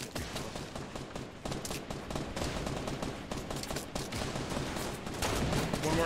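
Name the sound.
gunfire in video game Fortnite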